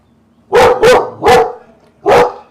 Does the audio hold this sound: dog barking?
yes